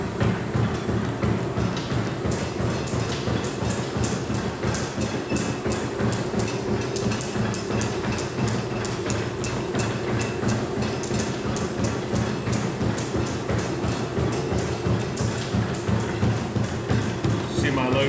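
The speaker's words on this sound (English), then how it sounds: "I'll start the motor, and then engage the clutch." The motor of an Eco 3 Slugger running with its clutch engaged, a dense continuous mechanical rattle and hum with rapid clicking, steady and loud throughout.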